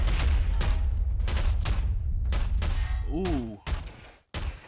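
Dense gunfire and thudding impacts from a Garry's Mod battle between modern military forces and Star Wars units, a loud, continuous barrage broken by brief gaps, with an excited voice exclaiming over it.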